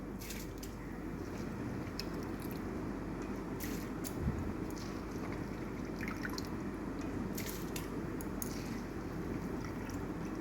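Rice tipped into a pot of salted water already at a rolling boil, giving a steady close bubbling and churning with scattered soft drips and splashes, no voices.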